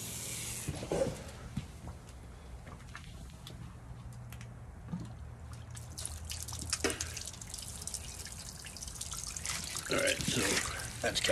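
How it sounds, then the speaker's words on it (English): Water siphoned through a garden hose into a calcite media water filter trickles and drips intermittently, close and fairly soft, with rubbing and handling noises and a voice speaking at points. "I'll just siphon it by my mouth."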